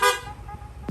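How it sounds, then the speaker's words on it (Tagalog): Short, loud honk from a Yamaha Nmax v1 scooter's horn, a bright burst at the start that quickly fades into quiet, up close with no voices. "ito po yung loud horn"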